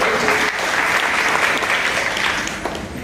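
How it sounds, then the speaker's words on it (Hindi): Enthusiastic applause from a crowd, dense and steady clapping that holds for a few seconds before tapering slightly. "बहुत बढ़िया, जोरदार तालियां।"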